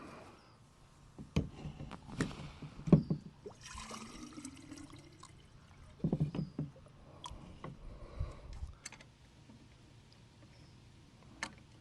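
Water being poured and splashed while a garden water pump is primed, with intermittent sloshes, gurgles and knocks close by in a quiet outdoor setting.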